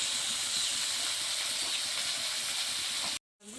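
Small fish sizzling in hot oil, a steady, loud, close hiss and crackle that runs without a break, then cuts off abruptly near the end.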